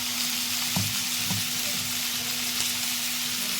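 Dried loitta fish fries with chili paste alongside flat beans, potato and eggplant, making a loud, even sizzle with a couple of soft stirring knocks near the start.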